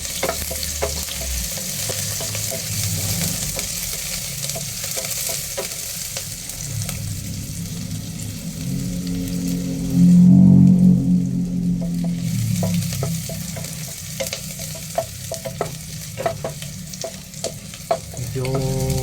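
Onions sautéing in a hot pan for home-style chicken afritada, a loud continuous sizzle with frequent scraping stirs and a brief burst of louder frying partway through.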